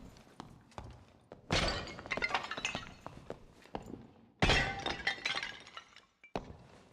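Clanging metallic clashes of longswords in a video game fight, arriving as two dense bursts of sharp clinks and crashes with quieter scattered hits before, between and after.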